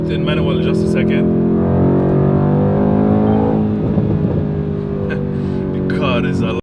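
Deep, steady rumble of a Mercedes-AMG C63 S facelift engine set to Sports Plus mode with automatic gearbox, its note swelling slightly then easing, heard close up beneath continuous male speech.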